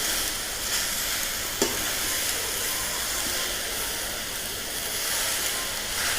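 Arbi (taro) leaves wilt in a hot pan while being stirred: a steady, close, broad sizzle and hiss throughout, with one sharp scrape of the utensil partway through and no talking.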